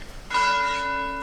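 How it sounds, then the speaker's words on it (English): A church bell in the city of Figueres, Spain strikes once after a brief quiet moment, leaving a bright, ringing tone with clear harmonic overtones that decays slowly. "we're next to the church bells"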